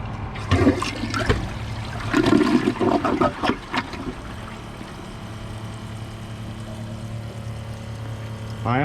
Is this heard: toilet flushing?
yes